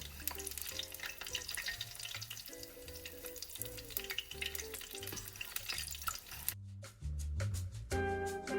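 A batch of crispy cabbage egg rolls with cashews fries in oil, a continuous crackling sizzle running beneath tuneful background music, briefly dropping out near the end before resuming.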